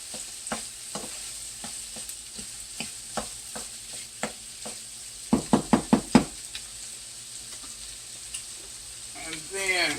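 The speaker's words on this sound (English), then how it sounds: "Get this turkey in here mixed up good where it can start cooking evenly." Ground turkey stirred in a hot pan for an Italian bake, a low sizzle beneath regular knocks of a spoon against the pan, with a quick cluster of harder taps near the middle and no talking.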